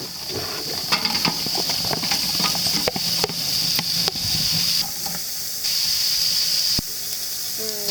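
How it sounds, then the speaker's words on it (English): Onions sizzling in a stock pot as they begin to caramelize, a steady hissing fry with scattered clinks and crackles, close and fairly loud, no speech. "I'm going to put these onions in this pot to start them caramelizing and get the sugars out of the onions."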